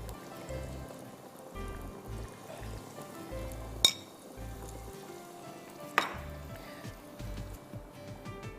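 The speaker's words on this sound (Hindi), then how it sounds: "इसको चिकन को तेल में शामिल कर दीजिए और फ्राई कर दीजिए" Floured chicken pieces frying in cooking oil, a faint steady sizzle with soft stirring and shuffling, and two brief sharp knocks of a utensil against the pan.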